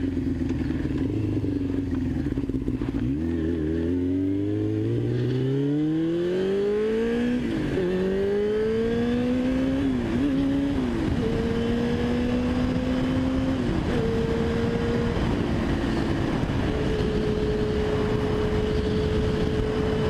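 A repaired Yamaha R6 sport motorcycle engine with a freshly changed air filter runs steadily and close by, its pitch rising and falling through smooth revs without sputtering, alone with no talk.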